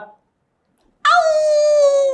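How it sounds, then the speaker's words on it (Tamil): After a brief voice and a second of silence, a cross-breed dog lets out a loud, drawn-out howling whine, a single sustained tonal cry lasting over a second. "அது என்ன வித்தியாசமான நாயா இருக்கு"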